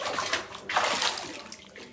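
Water sloshing in a bathtub as someone sits in it, soft splashes and a gentle swell of moving water, close and fairly quiet with no talking.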